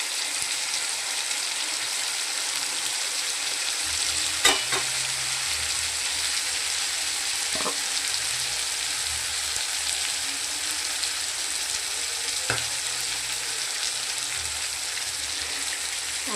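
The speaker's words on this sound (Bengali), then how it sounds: "চিকেনটা একটু ভাজা হবে, চিকেনটা আমার ভাজা চলছে।" Chicken fries in a pan with spices, giving a steady close sizzle throughout with a few faint clinks and knocks, no speech.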